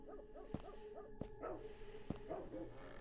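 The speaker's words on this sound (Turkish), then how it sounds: "Köpek avlıyor arkadaşlar" A dog in a video game barks repeatedly in short sharp yips with whimpering tones, moderately loud over a steady electronic background hum.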